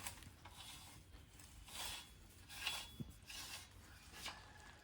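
A telescoping metal tree branch cutter pole, built from three pipes nested inside one another, is pulled out to full length with soft sliding and rubbing scrapes and a faint click.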